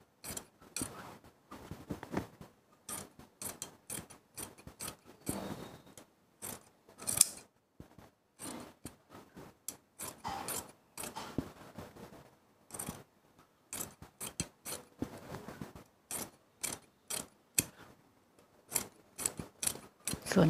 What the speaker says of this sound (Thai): ส่วนเกินที่ห้อยเราก็ตัดออกไปก่อนเกะกะ